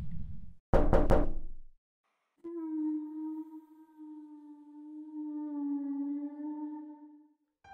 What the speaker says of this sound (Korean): 누군가 정확히 3번 독독독 하고 노크를 하는 거예요